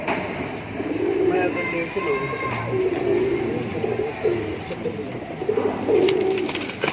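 Pigeons coo repeatedly in low, throaty bursts close by, with someone talking over them and faint background chirps.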